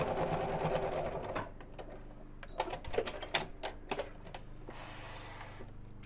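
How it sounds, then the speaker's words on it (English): A sewing machine stitches a Biscornu zipped pouch in quick rhythmic bursts of needle clatter, close by and fairly steady, with short pauses between runs and no talking. "And then we'll sew."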